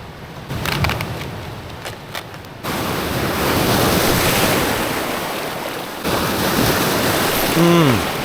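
Ocean surf crashes and washes loudly with wind buffeting the microphone, the roar of breaking waves swelling in several surges.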